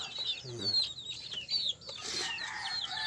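Pet chickens and chicks cluck and chirp while being fed chick starter, close by, with short repeated calls and peeps scattered over quiet rustling, and a person speaks softly between the calls.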